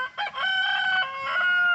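Rooster crowing from a tree in the evening, one loud, clear, drawn-out crow with a quick rising start and a long held wavering call, fairly close with no talk.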